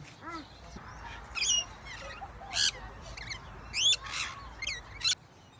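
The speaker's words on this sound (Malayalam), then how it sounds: "കുറേ അധികം പക്ഷികളെയാണ് കേട്ടോ ഈ കിളികളുടെ കൊച്ചക്കൊക്കെ ഭയങ്കര" Several birds call in a park in Adelaide with sharp, squawky bursts and chirps, some brief and some trilling, rising over a low, quiet background hum at irregular intervals.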